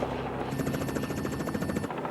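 Helicopter in flight over Alaska gives a steady, loud rotor chop, a fast even thudding with a turbine whine, heard from inside the cabin with no talking.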